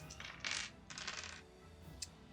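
Dice tumbling onto a tabletop game desk in a few quick clattering bursts, a short rattle then a sharper click near the end, faint and close with no talk.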